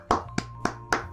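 Four sharp hand claps, evenly spaced and fairly close, with a short applause cue on a Spanish-language comedy show and no talking over them.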